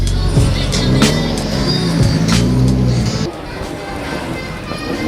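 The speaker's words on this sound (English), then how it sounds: "they are all lined up right now to make their first round warm up" Loud, idling and revving rally car engines close by as lined-up cars warm up at a car park rally at Changi, Singapore, steady throughout, the rumble dropping slightly near the end.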